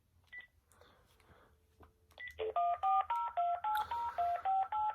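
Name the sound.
telephone dialing tones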